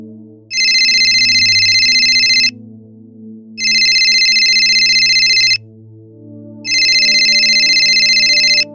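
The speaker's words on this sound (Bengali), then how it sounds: "আগে একটা ফোন করি" A telephone bell rings in three long bursts of about two seconds each, evenly spaced with short gaps, loud and close over a low background hum during a puppet theatre production.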